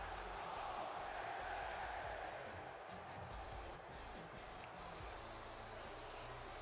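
A wrestling crowd at a WW-G1 B-Block match cheers as a dense, steady roar of many voices, loud and continuous throughout, with a commentator talking over it.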